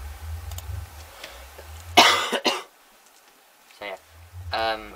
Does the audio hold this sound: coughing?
yes